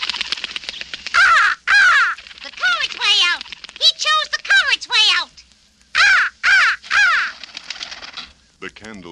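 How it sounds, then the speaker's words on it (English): Repeated harsh raven caws, a sound effect from a Haunted Mansion record, come loud and close in several bursts of varied rhythm, with short gaps between the calls. "A black raven flew into the room and perched on the bookcase."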